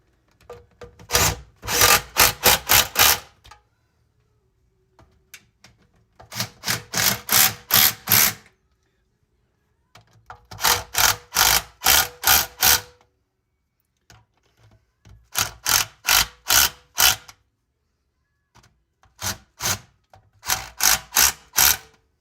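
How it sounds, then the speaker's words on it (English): A ratchet wrench runs in oil pan bolts that compress a cork gasket, heard as about six close, loud bursts of rapid clicking separated by short pauses, with no talk. "I'm just running them in and calling them a day"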